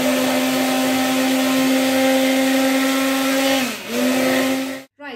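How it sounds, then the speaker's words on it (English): Blender running steadily on courgette cream, a loud close whirring motor that dips briefly in pitch near the end as the load shifts, then cuts out abruptly. "Now we're going to blend it."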